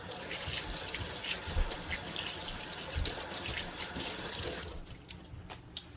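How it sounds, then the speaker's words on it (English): Hands being rinsed under a running kitchen tap, a steady splashing stream of water for about five seconds before it is shut off, leaving a few faint drips. "I'll rinse my hands off"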